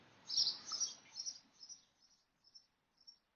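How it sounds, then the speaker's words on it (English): Faint, high bird chirps repeat several times, fading and spacing out over a quiet background. "So perhaps there's the birds chirping."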